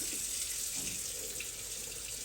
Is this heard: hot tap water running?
yes